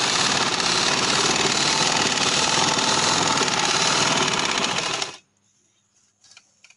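Sewing machine stitching pajama fabric, a loud continuous rapid rattle that runs for about five seconds and then stops, followed by a few faint handling clicks.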